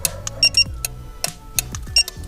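An aftermarket car alarm module wired to a car's positive and ground leads answers its remote with a series of short electronic chirps and clicks while unlocking and locking, close and clear, with no speech.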